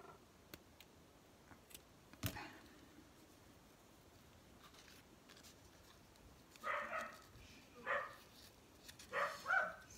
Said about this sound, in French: ça c'est mon beau-fils qui rentre, donc les chiens re-aboient